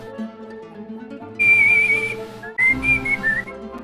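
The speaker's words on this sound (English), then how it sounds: "Oh, I think my whistling is actually not loud enough for the noise gate." A person whistles a tune close by in two clear phrases of sustained, wavering notes, over a low steady background hum.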